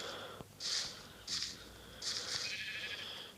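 Sheep bleating in a pen in Minecraft: three or four short, bright, nasal bleats spaced about half a second to a second apart, moderately loud over a steady low background hum, no talking.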